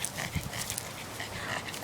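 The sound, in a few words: dog panting while being walked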